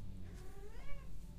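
A house cat gives a single drawn-out meow, faint and close, over a quiet background hum.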